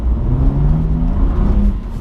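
A car on Michelin Pilot Alpin 4 winter tyres pulls away on a partly icy road, its engine building steadily in a low, continuous rumble that rises in pitch as it gains speed.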